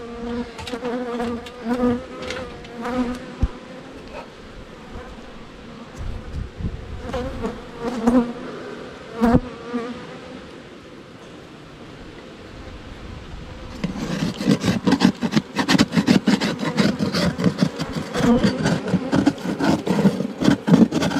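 Stirred-up honeybees scrape and crawl over wooden hive frames in a Mississippi swamp, giving a dense buzzing hum with rasping scratches that grows louder and busier in the second half. The bees are close and no one speaks.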